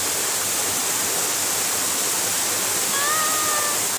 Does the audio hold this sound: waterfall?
yes